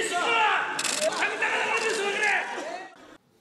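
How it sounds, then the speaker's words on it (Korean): Raucous shouting and booing fill the National Assembly chamber, many voices clashing at once in a loud, continuous uproar that cuts off abruptly near the end. "국회 본회의장은 고성과 야유로 가득 찼습니다"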